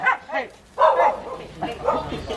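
Dog barking and yipping in short bursts on a Philippine street near a barbecue pork food stall, moderately close, with voices talking over and between the barks.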